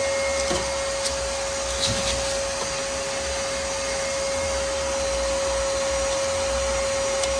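A vacuum cleaner runs steadily with a constant droning whine and hiss, close and loud, with faint knocks now and then.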